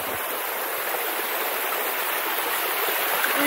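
Water rushing steadily down the slopes of Mount Wellington in a swollen stream, a dense, continuous broadband roar heard close up and unbroken throughout.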